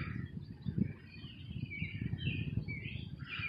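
Birds roosting in backyard bamboo twitter and chirp faintly in the distance, over a steady low outdoor rumble.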